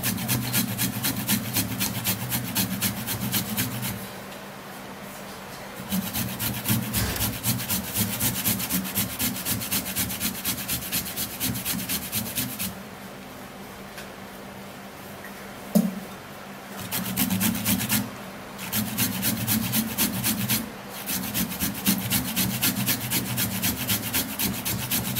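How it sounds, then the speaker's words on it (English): Ginger being grated by hand, a steady rasping scrape in repeated strokes with short pauses between bursts, close and fairly loud, with no talking. "So let me just grate it."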